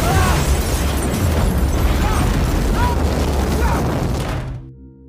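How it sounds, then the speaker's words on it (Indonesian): A loud, sustained explosive roar with rumbling low end and crackling bursts, continuing for several seconds before fading away. "disusul dengan guncangan yang cukup besar disertai dengan suara ledakan"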